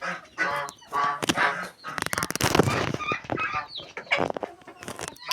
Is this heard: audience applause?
no